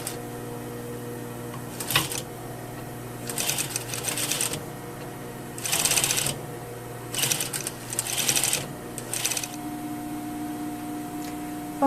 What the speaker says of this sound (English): So I'm turning my fabric around, lift it, and sew.